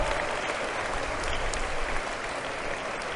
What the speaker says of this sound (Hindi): एक बार अपने लिए इतने जोर के ताली बजाइए